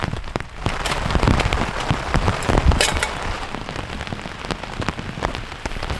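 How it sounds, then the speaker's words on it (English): Heavy rain pours down during a winter thunderstorm while camping with no tent, a loud, dense patter of drops striking nearby surfaces, with sharp splashes and louder gusts throughout. "The rain is so heavy right now."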